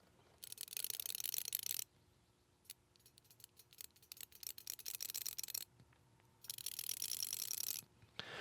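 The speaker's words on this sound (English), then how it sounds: "Very interesting, very unique sound from these wrenches." An SK ratcheting wrench clicks close to the microphone in quick, fine buzzing bursts of ratcheting alternating with slower individual clicks, soft overall, with no talking.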